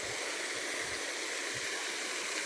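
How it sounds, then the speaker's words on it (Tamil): Decorative water fountains at Gardens by the Bay in Singapore pour and splash in a steady, broad rushing wash, continuous and fairly loud with faint low gurgles underneath and no talking. "அழகாக தண்ணியெல்லாம் பாருங்கள் எப்படி ஊற்றுது பாருங்கள், சூப்பராக இருக்குது."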